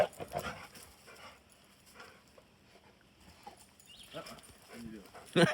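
Dogs playing and fighting outdoors at a forest campsite, with scuffling, panting and clattering paws in short bursts, mixed in with people talking nearby.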